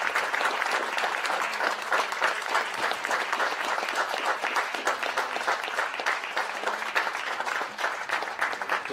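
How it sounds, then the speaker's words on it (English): Sustained audience applause for a keynote speaker at an honoring, healing and remembering gathering: a dense, even wash of many clapping hands, fairly loud and continuous throughout. "A big round of applause for our keynote speaker today"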